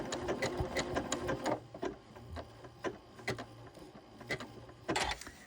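A sewing machine stitches a buttonhole-stitch appliqué, its needle ticking in quick, close, rapid bursts with short pauses between runs, quiet and with no voices.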